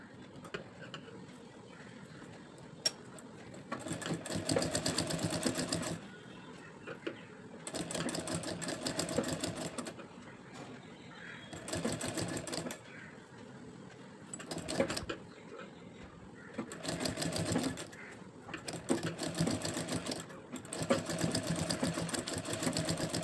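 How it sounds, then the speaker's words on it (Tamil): A sewing machine stitching a princess-cut front-open blouse, running in repeated bursts of rapid mechanical whirring, each lasting a couple of seconds, separated by short quiet pauses, close and steady. "திருப்பி இன்னொரு ஸ்டிச் போட்டுக்கணும்."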